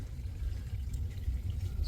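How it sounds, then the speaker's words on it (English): Water runs down from the floor above into a crawlspace, a steady low rushing trickle that holds at an even level throughout, with no talk over it. "Can hear the water coming down here."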